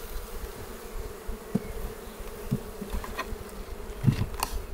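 Honey bees buzz around an opened beehive during an early spring inspection. Faint, steady hum with a few louder close passes of single bees near the microphone and no talking.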